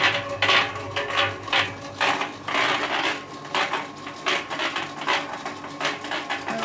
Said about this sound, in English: We have a rolling cement mixer.